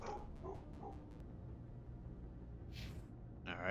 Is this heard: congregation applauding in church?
no